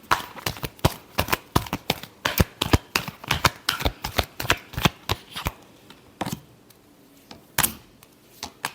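Playing cards are shuffled close up in a fast, steady run of sharp riffling snaps that slows into a few scattered flicks near the end, with no voices.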